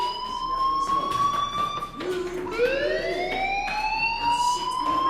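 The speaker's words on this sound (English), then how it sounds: "do you hear that fire alarm?" A fire alarm rings in the Life is Strange video game: a loud, continuous electronic wail whose pitch dips briefly partway through, then sweeps upward again and holds steady.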